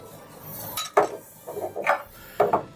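A butter, flour and milk sauce stirred in a pan for a chicken lasagna, with a few distinct spoon knocks and scrapes against the metal over a faint background, close and sparse.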